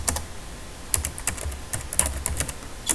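Rapid, uneven clicking of keys being typed on a computer keyboard while writing style code, close and alone with no talk.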